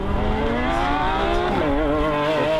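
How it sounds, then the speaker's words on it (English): Lamborghini Aventadors accelerating hard side by side on a wet test track in a drag race, loud rising engine roar with shifting harmonic pitch over a short burst, close and dominant. "Let the Lambos loose."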